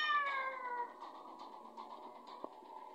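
A cat meows in the Ice Scream video game, a clear harmonic cry at the start that fades into softer, quieter game sounds.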